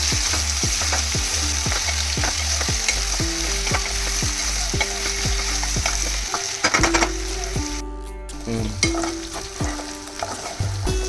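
Raw banana slices frying in a pan are stirred, repeated spatula scrapes and clinks over a constant loud sizzle, with a brief dip partway through.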